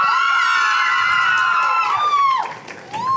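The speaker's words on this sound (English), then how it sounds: "Yes, give them a round of applause." Crowd at a national school French spelling bee cheers and whoops for the competing schools, a loud, bright mass of high voices shouting over steady noise that dips briefly near the end.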